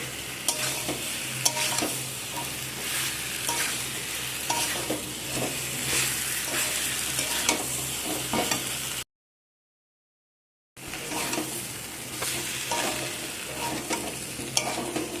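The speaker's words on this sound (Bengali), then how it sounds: "মশলার সাথে কষানোর জন্য একটু 3-4 মিনিট ধরে ভালো করে এটাকে কষিয়ে নিতে হবে" Jackfruit being sautéed with spices in a pan, a steady sizzle over repeated scraping stirs for about nine seconds, a short silent gap, then more close frying and stirring.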